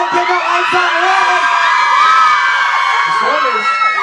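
A large crowd at a live German stage show shouts and cheers loudly and continuously, a dense mass of voices with scattered whoops and children's yells.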